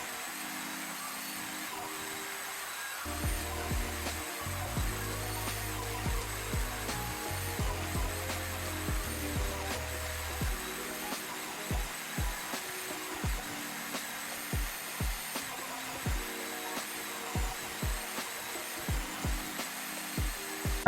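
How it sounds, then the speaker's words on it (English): A table saw rips a rescued hardwood board into square strips, its motor spinning up with a steady hum, then a long run of regular, rhythmic knocks and cuts under a constant droning whine. "I want to cut this into square strips, so I'm setting my fence to the board's width."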